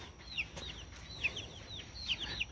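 Chickens in a grassy coop cluck excitedly in quick bursts, several calls overlapping near and loud, with a couple of sharper squawks toward the end and no talking.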